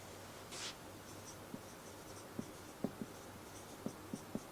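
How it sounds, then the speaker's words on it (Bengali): A pen writing on paper, faint and close, with a short scratchy stroke followed by a series of light, separate taps and ticks over quiet room hiss. "স্ট্রাকচার প্রথমে লিখব"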